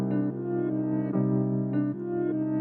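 A piano processed with Grossbeat effects in FL Studio sounds sustained, layered chords, with the level periodically dipping and swelling as the effect chops the tone, alone with no voice.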